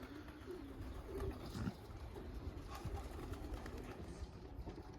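Young pigeons coo softly outside their loft in a steady low murmur, with faint rustling and no speech over it.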